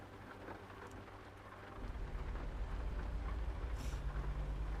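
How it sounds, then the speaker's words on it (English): Dense, continuous hail-like pattering, like rain drumming on a surface. It thickens and grows louder after about two seconds and stays steady with no speech. "Why does it sound like hail?"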